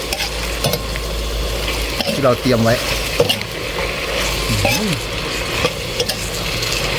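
Frog meat sizzles in a hot pan while a utensil scrapes and stirs it in repeated strokes, and someone speaks briefly over the cooking.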